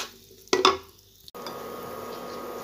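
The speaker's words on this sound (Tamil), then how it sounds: "இந்த எண்ணெயிலேயே பெருங்காயத்தூள், இந்த சிகப்பு மிளகாய், தேவையான அளவு உப்பு, கடலைப்பருப்பு, உளுத்தம்பருப்பு இதெல்லாம் தாளிச்சுக்கலாங்க" Asafoetida, red chillies, salt, chana dal and urad dal hit hot oil for tempering curd rice, with a spoon clatter and a short burst of stirring, then a steady close sizzle.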